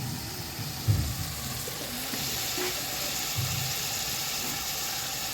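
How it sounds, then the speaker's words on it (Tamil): Chicken with poured curd sizzles in a frying pan, a steady close hiss of frying with a few soft scraping knocks of stirring, no talk over it. "சிக்கனை தயிரை ஊற்றி கிளறியாச்சு"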